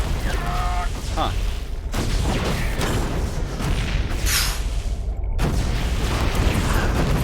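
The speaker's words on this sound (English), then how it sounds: "Faster firing rate for tanks" StarCraft 2 siege tanks fire unsieged at Stalkers, with a run of booming cannon shots and clanking mechanical game effects over a continuous battle din, under a commentator's talk.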